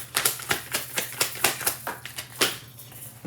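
Tarot cards flicking and snapping rapidly while being shuffled, a quick irregular string of sharp crisp clicks, close and fairly loud with no talking.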